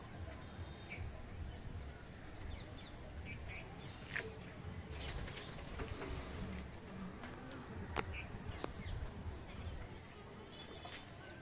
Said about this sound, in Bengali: পায়রাগুলো এখনও উড়ে চলেছে